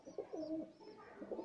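Pigeons coo softly nearby in a few short, throaty bursts over about a second and a half, with no voices present.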